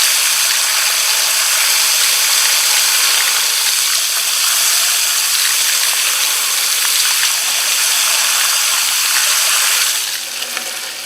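Running water gushing steadily through a strainer while Straight 8 cucumber seeds are washed, a loud continuous splashing hiss that eases slightly at the end.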